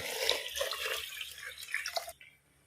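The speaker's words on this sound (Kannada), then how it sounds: "ಇಲ್ಲಿ ನೀರು ಕೂಡ ಕುದಿತಾ ಉಂಟು ಈ ನೀರನ್ನು ಇದಕ್ಕೆ" Boiling water is poured onto rice fried in ghee, making a soft, continuous splashing gush with small drips for about two seconds before it stops abruptly into quiet.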